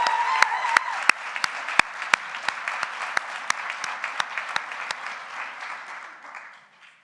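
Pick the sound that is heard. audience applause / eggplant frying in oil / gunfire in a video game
audience applause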